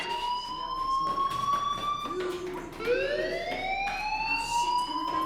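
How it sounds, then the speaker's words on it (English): A steady electronic fire alarm tone in the video game Life Is Strange rings continuously, shifting pitch partway through, loud and sustained with a faint background hum and no talking. "do you hear that fire alarm? That means you should be outside."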